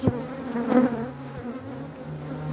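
Honey bees buzz at an opened hive in early February, a dense close hum with individual bees droning past over the continuous swarm sound; no one speaks.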